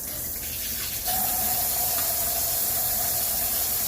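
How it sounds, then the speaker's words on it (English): A kitchen tap is turned on and water runs steadily over hands being rinsed, a close, even hissing splash that begins about a second in and continues alone. "I'm going to just quickly wash my hands"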